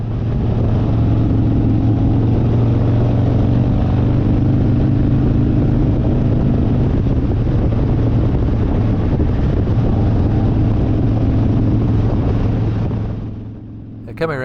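Motorbike cruising steadily along the Haast Pass highway on New Zealand's South Island, a constant engine drone mixed with heavy wind rush, easing off near the end.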